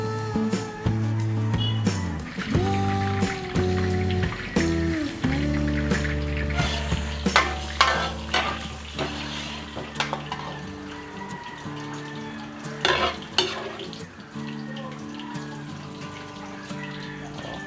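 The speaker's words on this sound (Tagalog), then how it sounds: "Prito na rin po natin yung ating pinirper kahapon na embutido." Steady sizzling and crackling from embutido frying in a pan, with clinks of utensils and a low hum running underneath throughout.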